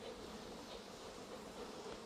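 Honey bees hum in a steady, dense drone around an open hive on a rainy day. The buzzing is faint and continuous, and no one speaks.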